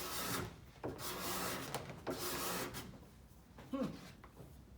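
A curved steel card scraper is pushed across a wooden surface in repeated rasping strokes, each a close, dry scraping shave of wood with brief pauses between passes.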